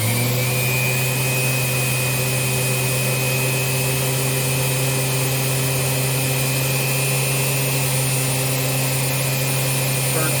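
Riccar R30D vacuum cleaner running with its brush roll engaged, a loud steady motor whine with a low hum and fixed tonal drone, unbroken throughout.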